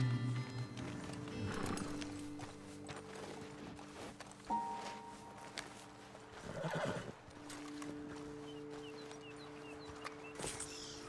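Horses in Red Dead Redemption 2 whinny and snort near a roadside ledge, with scattered hoof clops on the ground and a soft ambient game backdrop underneath.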